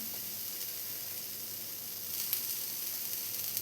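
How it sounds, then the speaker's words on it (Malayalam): Grated coconut with shallots roasting in a pan, a steady close hiss of frying that swells slightly partway through, with no voices. "തേങ്ങ ഇട്ട് കൊടുക്കുകയാണ്."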